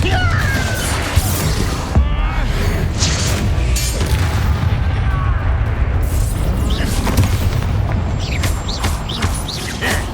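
Spell blasts in Hogwarts Legacy combat, loud booming impacts and crashes over a continuous dense game soundscape, with spoken incantations in between.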